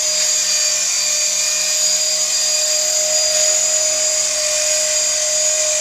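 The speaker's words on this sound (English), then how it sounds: "first flight trials of the new helicopter" A small electric EXI 450 CF Pro radio-controlled helicopter whines steadily at high pitch, its rotor producing a constant buzzing hum close by, with no voices.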